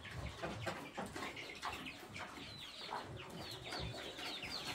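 A hen clucks repeatedly on a farm smallholding, its calls recurring throughout amid other fowl noises and livestock-yard ambience, fairly close and moderately loud.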